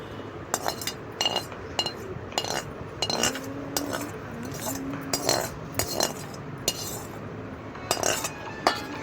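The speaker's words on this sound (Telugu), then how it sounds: "ఇప్పుడైతే మామిడికాయ పచ్చడి కలుపుతుందండి." Mango pickle (avakaya) being mixed by hand in a home kitchen: irregular metallic clinks and scrapes of a utensil against a vessel, close and fairly quiet, repeating throughout over a low background.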